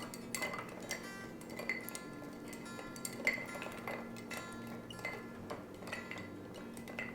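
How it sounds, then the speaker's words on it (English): A banana old-fashioned cocktail stirred over a large ice cube, with soft, steady clinks of ice and spoon against the glass ticking along quietly and close. "I'm going to give it all a stir to get it nice and chilled"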